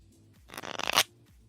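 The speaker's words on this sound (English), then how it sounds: "That's literally me shuffling decks of cards." Decks of playing cards are shuffled in one quick riffle, a brief burst of crisp fluttering clicks that builds to a final snap, heard close up against a quiet background.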